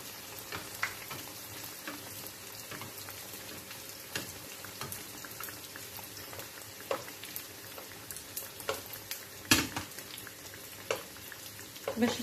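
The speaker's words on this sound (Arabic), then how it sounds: "نبقاو نكبو عليه الزيت هكا" Pastry dough frying in hot oil in a pan, giving a steady soft sizzle with scattered pops and crackles throughout, fairly quiet and heard alone.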